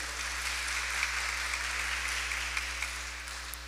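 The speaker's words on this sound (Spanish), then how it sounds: "vamos a darle un aplauso a esa familia que trajo su donación" Congregation applause at a Sunday Mass for a family's donation, steady clapping heard somewhat distant over a constant low electrical hum.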